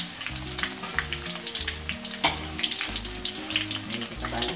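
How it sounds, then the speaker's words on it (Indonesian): Battered tofu stuffed with vegetables deep-fries in hot oil, giving a steady, dense sizzle with crackling pops throughout and no voices. "Lalu kita mau masukkan lagi ke sini, kita goreng lagi tuh"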